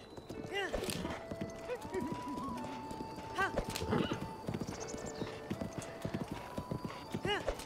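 A horse in the Zelda Breath of the Wild video game gallops with rhythmic clip-clop hoofbeats and gives several whinnying neighs, with game music and sound effects mixed in.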